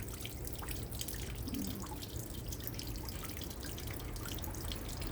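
A home garden water fountain after rain, with faint, steady splashing and trickling water, continuous and even throughout.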